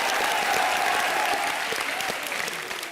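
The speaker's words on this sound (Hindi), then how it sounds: "जोरदार तालियां हो जाए भारती, प्रीतम और करण के लिए।" A studio audience at a Colors TV comedy show applauds loudly and continuously, a dense wash of clapping that tapers slightly toward the end.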